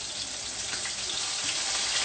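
Fish pan-fries in safflower oil, giving a steady, close crackling sizzle that runs unbroken throughout with no talking.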